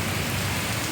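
Heavy storm rain pours steadily in Mettupalayam, near the Bhavani river, a dense continuous hiss of drops striking surfaces, loud and close with no voices over the brief burst.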